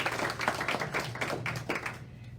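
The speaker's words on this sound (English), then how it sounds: "You can give her a round of applause" Light applause from a small audience at a Coffee with an Entrepreneur gathering, a thin patter of hands clapping steadily, fairly soft and fading toward the end.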